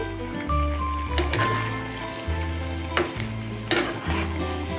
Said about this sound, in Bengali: এবারে ভালোভাবে মিশিয়ে নিচ্ছি